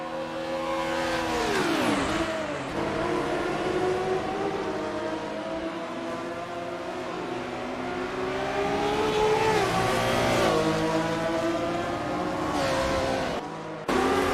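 A 1974 Porsche 911 RSR howls around the Montreal circuit in the racing game AC GT Legends, its engine revving loud and continuous, pitch repeatedly climbing through the gears and dipping on shifts, with another car's engine blending in.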